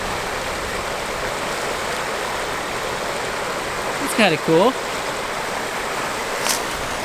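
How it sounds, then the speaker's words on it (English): Steady broadband rush of a tiny waterfall at a campsite, continuous and fairly close throughout, with a brief spoken remark midway. "Tiny little waterfall."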